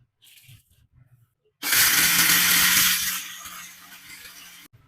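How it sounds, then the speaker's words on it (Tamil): A mixer grinder runs loud and close, grinding idli podi spices. A roaring, gritty whir with a steady motor hum starts abruptly after quiet knocks, eases partway through, then stops sharply. "ஆறின பிறகு மிக்சியில போட்டு அரைச்சிக்கலாம்"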